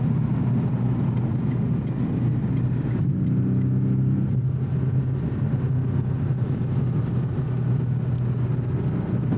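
A Porsche 718 Boxster S engine pulls hard from inside the cabin, a loud, continuous mid-range drone with a brief rise in pitch partway through, over road rumble.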